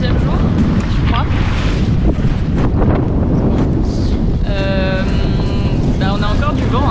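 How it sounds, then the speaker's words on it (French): Strong, steady wind at sea on an Atlantic crossing buffets the microphone throughout, with rushing broadband noise and some whistling tones; faint voices may be underneath. "On a encore du vent, hein, comme vous pouvez le voir."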